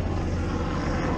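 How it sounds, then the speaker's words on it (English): A steady, loud rotor-and-engine roar from aircraft overhead fills the air without pause, with no voices. "With the helicopters, you don't get 2 seconds hardly without any noise."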